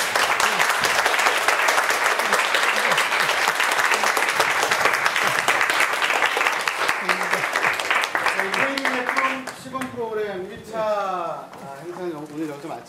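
An audience claps for a visiting professor after his lecture, a dense round of applause that carries on for several seconds before thinning out, as a voice begins speaking near the end.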